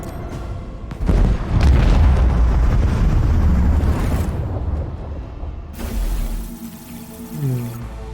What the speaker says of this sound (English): Move the torpedoes and let's detonate them.